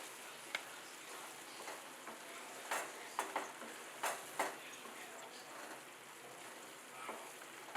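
A spoon stirs corn and capsicum into gravy in a pan, giving soft scraping taps and faint sizzling, quiet and close, in a few brief strokes.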